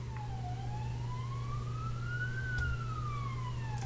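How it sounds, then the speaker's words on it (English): Police siren wailing outside in the adventure video game Return to Zork, a single steady rising-and-falling tone over a constant low hum, moderately loud with no talk. "you'd think we'd be committing a crime with the police siren outside"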